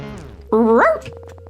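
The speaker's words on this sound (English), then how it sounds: "The dog woke us up." A strange-looking dog barking in the You Will (Not) Remain video game, a single loud, close, whining bark that rises in pitch, set among synthetic game tones and a low hum.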